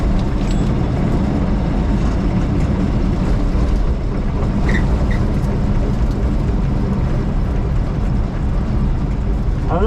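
A Chevrolet Nova engine runs loud and close as a steady, dense rumble with little change in level, and no distinct rev bursts stand out.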